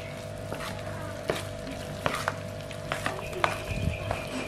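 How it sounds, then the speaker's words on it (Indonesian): A chicken dimsum filling seasoned with pepper is stirred, with irregular scraping and knocking strokes over a low, steady hiss, close and moderately quiet. "Aduk rata kembali."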